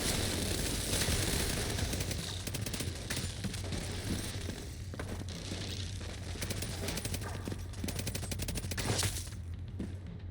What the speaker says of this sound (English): we're gonna have to LMG this guy